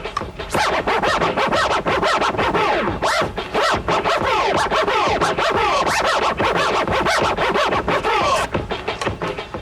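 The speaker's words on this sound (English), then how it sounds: "when you do that repeatedly, it sounds like this" Rapid, continuous DJ tear scratching on a vinyl record, jerked back and forth in quick repeated strokes with whooshing pitch sweeps, loud and alone.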